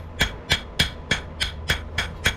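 A hammer rings on hot steel as a rasp is forged into a tomahawk, eight sharp metallic strikes in an even, quick rhythm, close and loud.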